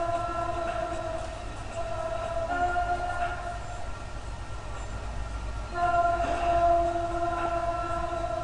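A moving train in Sunnyvale, California rumbles past with a sustained mechanical drone and a steady high tone, growing louder toward the end, with faint voices underneath.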